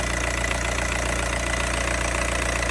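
A VW ALH TDI diesel engine runs steadily with a dense, knocking diesel clatter, held at a fairly constant pitch close to the listener, with no voices.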